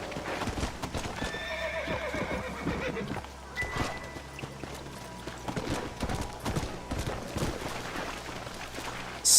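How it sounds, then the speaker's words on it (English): A horse in a Red Dead-style Western video game gallops with rapid, rhythmic hoof clip-clops and lets out a clear whinny early on, steady and fairly close, with no talking. "Cavalo"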